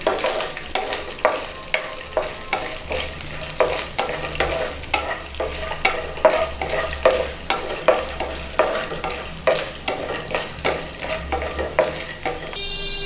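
Spices and garlic crackling in hot oil for tempering, under a repeated, rhythmic stirring scrape about twice a second, continuing steadily throughout.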